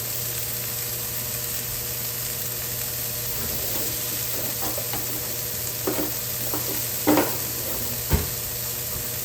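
Hamburger patties sizzle in a pan, a steady, close frying hiss with a few light scrapes and clicks near the end.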